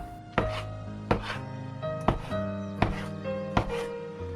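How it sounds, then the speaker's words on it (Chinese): Five sharp knife chops on a wooden board, evenly spaced, as a log of rested dough is cut into small pieces, each crisp thud ringing briefly, close up and with no voices. "直接整理成长条，用刀分割成8个小面团"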